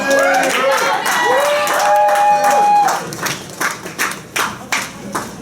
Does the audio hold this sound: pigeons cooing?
no